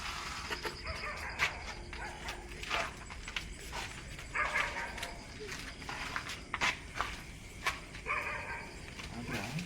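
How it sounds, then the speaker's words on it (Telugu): A dog barks, yips and whimpers intermittently at an outdoor night spot, the bursts coming irregularly among footsteps and people talking. "అదేరా డాగ్స్ కూడా ఒక్కటే అరుస్తుంది ఇప్పుడు"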